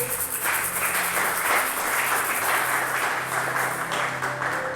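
A church congregation claps together to acclaim the Lord during a service, a dense, steady wash of applause sustained throughout with no clear pauses.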